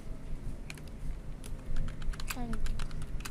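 Computer keyboard keys tapped while an email message is typed, scattered clicks over a low background hum, with a voice briefly audible.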